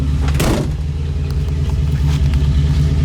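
A 1966 Ford Mustang Coupe idles with a steady low rumble close by, and a brief thump and rush of noise near the start, without any talking.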